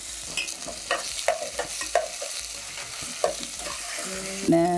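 Tomatoes, garlic and ginger for sambar hit a hot pan, giving a steady sizzle punctuated by repeated scraping stirs, with a brighter clatter near the end.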